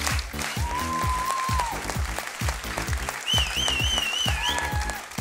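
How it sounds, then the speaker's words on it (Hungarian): Theatre audience applauding steadily at a festival awards ceremony as the cast is called on stage, loud continuous clapping with music playing underneath. "amíg itt tapsoltok"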